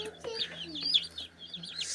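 Cornish Cross chicks in a coop give soft, busy clucks and cheeps in overlapping bursts, fairly close and moderately quiet over a faint low hum.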